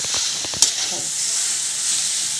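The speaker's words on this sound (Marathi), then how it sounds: "याच्यात आपण ही पपिता जो किसलेला आहे तो टाकून घ्यायचा त्याला मिक्स करून घ्यायचं आहे" Grated papaya hisses loudly as it goes into a hot mustard seed and chilli tempering, giving a bright, steady sizzle with a few quick stirring knocks and one sharp clink near the start.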